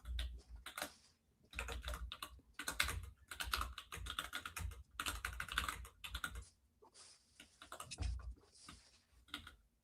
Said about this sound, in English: I'm just hitting random keys on my keyboard now at this point.